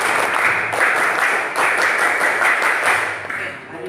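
A class of students clapping together in a classroom, a pattern of several rhythmic group claps in quick bursts, fairly close and loud, with a short pause partway through.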